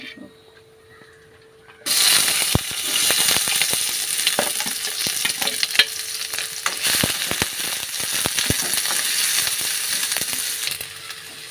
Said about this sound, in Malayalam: വെളിച്ചെണ്ണ ഒഴിച്ചു കൊടുത്തു. കടുക് ഇട്ട് കൊടുത്തു.